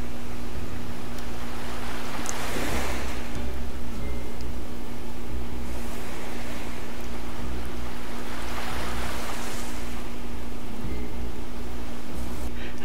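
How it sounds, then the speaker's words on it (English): Ocean waves lapping on a beach and washing against rocks in a video game, a continuous close wash of surf with slow swells breaking every few seconds over a steady low rumble. "Just some ocean ASMR there with the waves lapping up on the beach and hitting against the rock"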